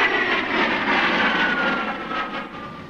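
A Grumman A6E Intruder jet aircraft flies overhead with a broad, steady roar of jet engines that swells slightly and then eases off.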